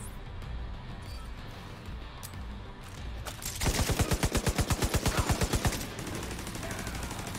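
An automated turret in the shooter The Division 2 fires a rapid, evenly spaced burst of about two dozen sharp shots lasting roughly two seconds, loud over quieter game ambience.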